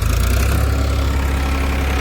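A tractor engine idles and chugs steadily close by on a farm work site, a loud, continuous low rumble with no pauses.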